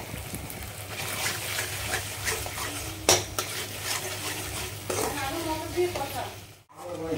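Turmeric, chilli powder and mixed masalas are stirred in a pan for aloo paneer matar, with a steady scraping sizzle, occasional clinks of a utensil against the pan and no talk.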